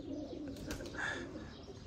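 Pet pigeons kept for pigeon-flying sport coo softly in a brief, faint murmur against a low background hum, with a light chirp.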